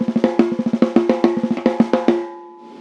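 Snare drum picked up by the top microphone alone: a quick run of sharp, close hits with ringing body tone, played in a busy pattern, then a final stroke left to decay into near silence.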